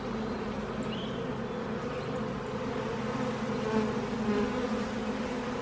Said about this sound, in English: This is not a big box of bees.